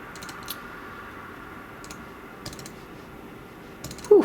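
Computer keyboard and mouse clicking at a desk, scattered sharp clicks and taps in small clusters over a quiet room hum, close and fairly faint.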